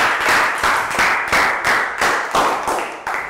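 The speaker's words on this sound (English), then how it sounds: "Round of applause for Net." A classroom of children clapping together in steady bursts, the applause rising and fading several times in quick succession.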